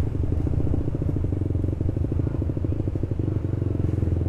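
An old Honda CB motorcycle engine idles with a rough, sputtering putter, steady and close, rumbling low throughout with no talking.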